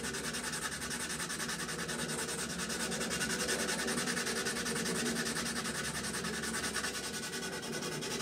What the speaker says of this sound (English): Okay, a little bit more sanding.